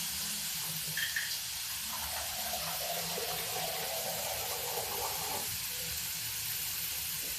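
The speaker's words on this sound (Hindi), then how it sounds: "इसलिए हम थोड़ा पानी डाल देते हैं।" Water poured into a pressure cooker holding ginger garlic paste for daliya masoor khichdi, a steady close hissing splash that runs throughout without a break.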